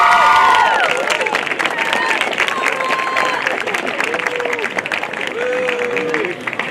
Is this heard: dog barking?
no